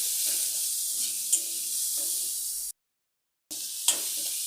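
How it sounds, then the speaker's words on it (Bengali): Chopped onion, green chilli and ginger sizzle in hot oil with cumin seeds while being stirred: a steady close frying hiss with light scraping strokes, a brief full silence partway through, then the sizzle resumes. "এখন আমি পেঁয়াজ কুচিগুলি, লঙ্কা আর আদাটা দিয়ে দিলাম। একটু নাড়াচাড়া করে নেব।"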